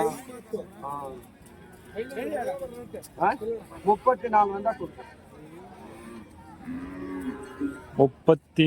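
Cattle and young calves low and moo repeatedly at a livestock market, several calls close by and loud, mixed with people talking and bargaining nearby.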